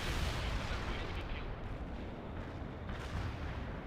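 Artillery strike in the video game World in Conflict, a dense rumbling barrage of low booms rolling on continuously at moderate, distant-sounding loudness.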